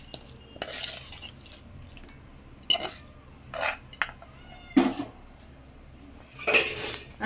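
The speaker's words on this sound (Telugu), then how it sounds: "ఇప్పుడు దీంట్లో మనము పులిహోర అయితే కలిపేసుకుందాము." Cooked rice being mixed with raw mango pulihora mix in a pan: intermittent scraping and soft clinks of a spoon against the pan, irregular and close, over a quiet background hum.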